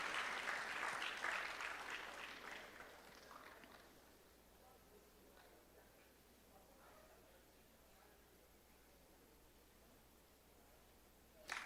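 Audience clapping at a DoSA Day 2026 gathering, a dense, fairly loud burst of applause that fades out over the first few seconds, leaving a quiet room with faint murmuring and a small bump at the very end.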